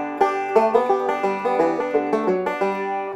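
Three-finger Scruggs-style banjo roll with slides into notes, a steady run of bright plucked notes with gliding pitch bends, close and clear with no talking.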